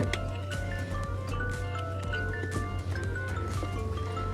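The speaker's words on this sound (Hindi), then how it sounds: "मेरे फोन का अलार्म बज रहा है बार बार।" A phone alarm goes off inside a truck cab, its tone stepping up and down through a repeated melodic pattern over a low steady engine hum, at moderate level.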